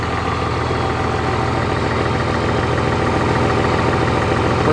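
A Cummins diesel truck engine running loud and steady before a burnout in snow, a constant low rumbling drone close by with no talk.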